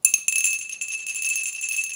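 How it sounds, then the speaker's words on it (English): A second small decorative bell jingles continuously at close range, a softer and more muted tinkling than a piercing ring, with irregular strikes over two seconds. "I'm probably not ringing it right."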